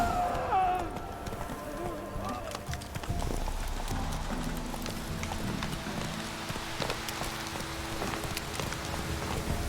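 Horse hooves clip-clopping at a run in a video game, a continuous dense patter mixed with rain-like noise and a voice speaking over it.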